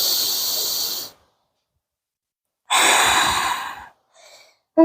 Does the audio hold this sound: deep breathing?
yes